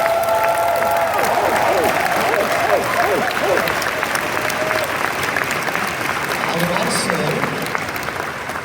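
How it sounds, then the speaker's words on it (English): A large crowd at the Anthrocon 2024 convention closing ceremony breaks into loud, sustained applause with some cheering, a thick roar of clapping that carries through the whole stretch and eases slightly toward the end. "Let's give one huge round of applause for the folks from the DLCC."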